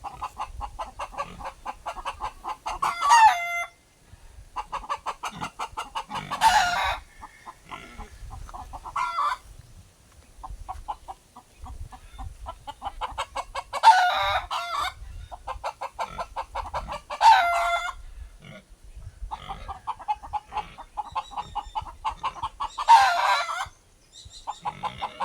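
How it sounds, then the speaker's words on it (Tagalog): Chickens and a rooster on a Filipino farm: repeated loud crowing bursts over steady nearby clucking and cackling, several crows spaced through the stretch. "Natakot yung manok."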